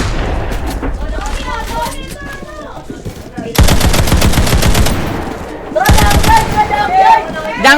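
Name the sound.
M60 machine gun firing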